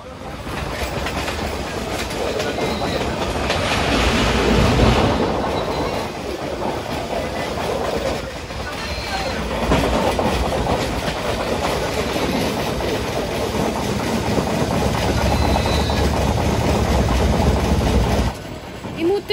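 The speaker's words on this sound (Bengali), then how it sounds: "আমরা নন্দীগাজন স্টেশনটা পেরিয়ে যাচ্ছি।" The Tamralipta Express, travelling from Digha to Howrah, rolls steadily along the rails, heard from inside a chair car. The rumble and clickety-clack of the wheels continue throughout.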